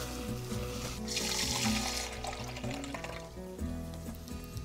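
Half a cup of water poured into a simmering tomato and guajillo chile sauce in a pan, a faint splash and sizzle under low kitchen hum.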